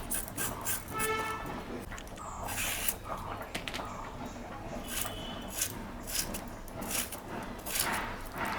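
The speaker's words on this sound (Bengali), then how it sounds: "একটা আলু দেব, আলুটা আমি কাটে নিই।" A potato cut with a knife for a fish charchari, giving repeated close, scraping slices and soft taps of the blade against a board in a steady working rhythm.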